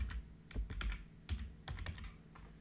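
Close, clear typing on a computer keyboard as Python code is entered, quick irregular keystrokes in short bursts with no talking.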